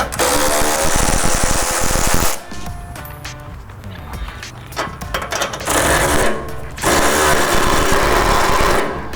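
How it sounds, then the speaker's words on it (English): An electric ratchet spins off the sway bar link nuts on a new Ford F250 during a Carli 4.5 pintop lift kit install. Two loud, sustained whirring bursts are separated by a quieter stretch of clinks and handling noise. "now that I broke it free, it's easier with an electric ratchet"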